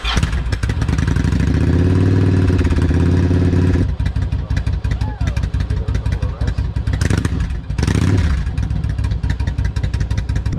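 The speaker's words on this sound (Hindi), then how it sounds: "Okay, now start the bike." A motorcycle engine runs loud and close, with a steady throbbing idle that cuts off abruptly, then sputters back to life and rises in brief revs alongside some clattering.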